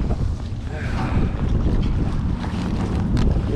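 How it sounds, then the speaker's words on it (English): Strong wind buffets a boat out on the Detroit River, a dense, continuous roar of gusts and microphone wind noise with water sloshing underneath, loud and steady throughout. "that wind really picked up"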